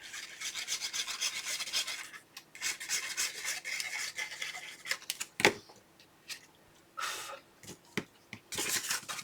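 Paper being folded and creased by hand for a Graphic 45 Seas the Day photo album: soft close rubbing and scraping that runs almost continuously, with a few sharper taps and crackles near the end.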